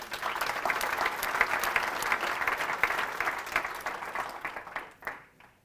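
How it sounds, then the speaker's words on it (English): An audience breaks into dense, steady applause with many hands clapping at once. It holds for several seconds, then thins out and fades away. "Can we give him a round of applause?"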